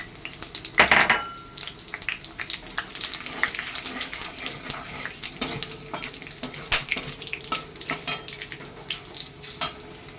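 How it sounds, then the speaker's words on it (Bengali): Cinnamon, cloves, cardamom, bay leaves and cumin temper with sugar in hot oil in a wok for a mutton curry, giving a steady close sizzle with scraping stirs and sharp metallic clinks of a utensil against the pan. "আর এটার মধ্যে দেখুন দারচিনি, লবঙ্গ, এলাচ আর তেজপাতা আর জিরে একসাথে আমি ফোড়ন দিয়ে দিচ্ছি।"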